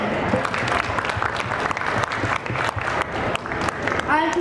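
An audience at a book festival panel and book launch breaks into sustained applause, a loud, continuous clapping crowd with a few voices mixed in near the end.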